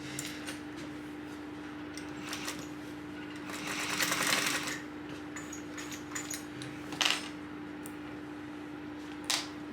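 A sewing machine runs steadily, basting a tote bag connector with a 1/8-inch seam; the motor hum is continuous and close, with brief louder bursts and small ticks along the way.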